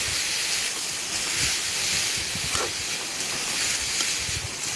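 Boiled cabbage stir-fried in a pan gives a continuous loud hissing sizzle, with low scraping stirs throughout and no voices.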